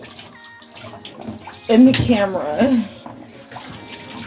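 Water pouring and splashing off a bag being rinsed and shaken out, a short loud gush in the middle of steady running water, with a voice speaking briefly.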